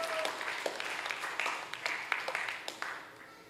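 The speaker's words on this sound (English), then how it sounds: "Let's give them a round of applause" An audience at a primary school graduation ceremony gives a round of applause. The clapping is fairly faint and distant, with scattered sharper claps standing out over a steady wash.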